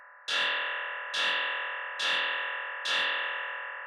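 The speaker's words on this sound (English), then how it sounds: "put on ping pong, turn it up all the way, turn up the feedback all the way" A bright, distorted tearout dubstep synth stab repeats four times at an even pace, each hit decaying into a long echoing ping-pong delay tail with full feedback that runs into the next.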